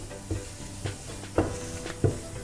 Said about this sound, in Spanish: movemos para que no se nos queme el anís en grano